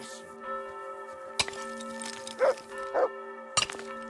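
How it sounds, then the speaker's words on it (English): A dog in Kingdom Come: Deliverance II barks in a few short bursts over a steady drone of sustained tones, with sharp clicks scattered between the barks. "He's barking at something now."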